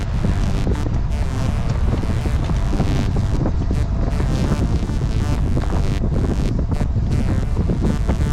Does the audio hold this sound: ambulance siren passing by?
no